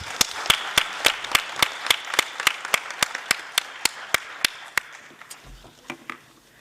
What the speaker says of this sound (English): maybe we could just close with a big round of applause for our panel